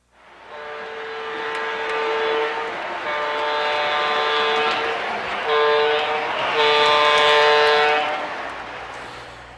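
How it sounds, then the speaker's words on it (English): A model train locomotive's whistle sounds in several long, loud, steady blasts on a layout, with a new diode fitted to the whistle circuit, over a continuous running hum. "that new diode made a tremendous difference in the performance on the whistle on that locomotive"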